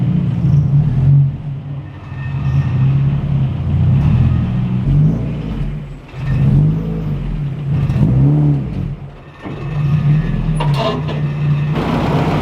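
A big-turbo B-series Honda Civic EG running hard on a dyno, loud sustained engine roar with repeated rev swells and brief dips between pulls, close and continuous, no talk.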